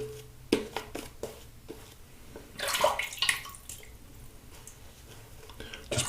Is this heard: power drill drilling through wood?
no